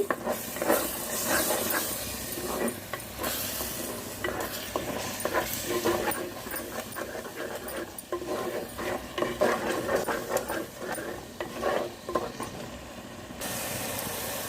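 Onion masala paste and five or six green chillies frying in a pan for a grass carp curry, a steady close sizzle and hiss with repeated stirring scrapes against the pan and no talk.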